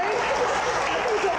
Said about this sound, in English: let me just give y'all a big old huge just hand clap for the fan ministry.